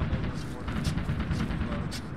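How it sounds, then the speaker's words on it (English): Heavy RPG blasts in a military video game on a German forest patrol, booming and rumbling at close range beneath overlapping voices on the radio. "That's RPG as well"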